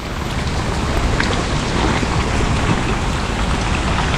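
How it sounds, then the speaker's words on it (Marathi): Heavy monsoon rain pours down outdoors during mud crab catching, a dense, loud, unbroken hiss of drops that stays even throughout with no voices. "दमभर पाऊस पडते"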